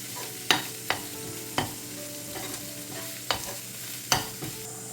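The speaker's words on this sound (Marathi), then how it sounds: "हे वाटण आता आपल्याला ह्या कांद्यासोबत तेलावर परतून घ्यायचं आहे" Onion and coconut paste sautéed in oil, sizzling steadily while a spoon scrapes and knocks against the pan in irregular strokes, close and clear.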